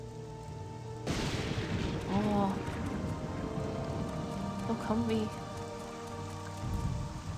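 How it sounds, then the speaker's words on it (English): Rain falls in a video game, a steady hiss that comes in abruptly and keeps going, with a person speaking briefly over it. "Oh, it's raining."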